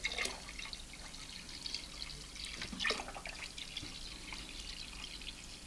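Purified water pours and trickles into a jug for a Mr. Beer home brewing kit, a faint steady flow with scattered drips and small splashes, heard alone.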